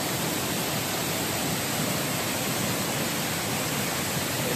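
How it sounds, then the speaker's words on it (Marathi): Water plunges forcefully from a height at a cliffside waterfall, a loud, dense, unbroken roar filling the whole soundscape with no voices. "एवढ्या फोर्सनी पाणी वरतून पडतो"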